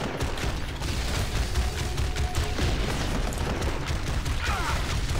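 Rapid automatic weapon fire from the Punisher in the game Marvel Heroes, a dense, steady burst of shots running loud and continuous throughout with booming low-end impacts.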